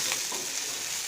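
Rui fish frying in a pan, a steady bright sizzle that holds evenly through the short stretch with no voices.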